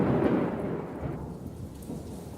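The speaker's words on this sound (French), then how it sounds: "Un orage éclata." Thunder rumbles loudly alongside steady heavy rain during a storm, a broad rolling roar that swells at the start and then eases to a continuous downpour.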